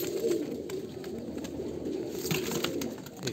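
A male and a female Andhra pigeon coo together in low, overlapping murmurs close by, with faint clicks and a soft rustle partway through over steady background noise.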